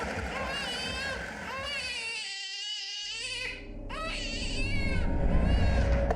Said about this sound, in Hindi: अंदर से बच्चे की आवाज भी आ रही रोने की